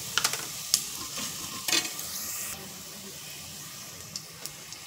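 Asafoetida dropped into hot oil for a vegetable curry, a soft continuous sizzle with a few sharp scraping stirs of a spoon in the pan near the start.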